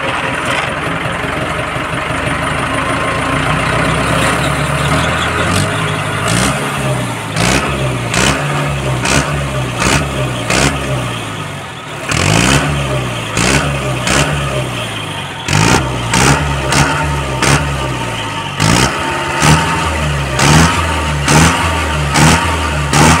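An Arjun tractor's diesel engine starts and runs with a chugging idle, revving in bursts with sharp clattering knocks between, loud and close.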